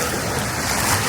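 Water laps along the clear-water shore of Lake George, a continuous close wash of small waves with light wind noise.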